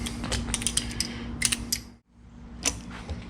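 Ratcheting and clicking of a wrench snugging Loctite-coated bolts on an aftermarket rear rack of a Suzuki V-Strom 1050XT, bursts of metallic ticks with a brief pause mid-way, close and moderately loud over low background hum.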